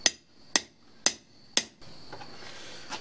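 A forged bowie knife is hammered on an anvil with four sharp, ringing metallic strikes evenly spaced about half a second apart, close and loud, followed by quieter shuffling and faint taps.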